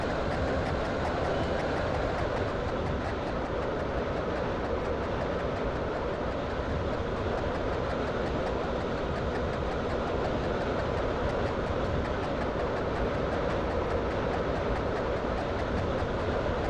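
A Stepford Connect Class 331 train in a video game runs steadily along the rails, giving a constant rumbling roll with faint rhythmic clicking that stays even and unbroken.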